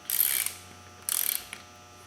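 A ratchet tightens beadlock rim bolts on a 2003 Polaris Ranger 6x6 wheel, making two short bursts of close, rapid clicking about a second apart.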